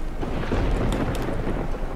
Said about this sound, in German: Gewittert?